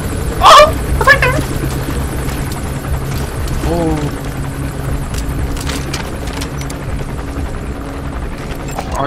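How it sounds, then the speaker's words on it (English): A helicopter in the Metal Gear Solid 5 video game drones with a steady, loud rotor hum throughout, with a brief sharper burst near the start and a few short game sounds on top. "Where's the helicopter? Oh! It's right there!"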